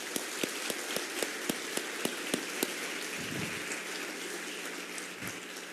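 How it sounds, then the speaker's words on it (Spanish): An audience at a talk on financial conglomerates in Colombia claps, a few sharp, regularly spaced claps standing out over a thinner wash of applause that softens after a few seconds. "Un aplauso a todos ustedes."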